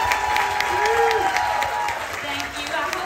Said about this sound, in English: Everybody give her a big round of applause.